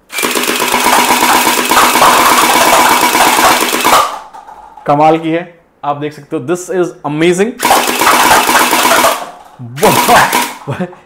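Rapid mechanical rattle of an M4-A1 electric gel blaster firing automatically in two long bursts, with someone talking excitedly between and after them.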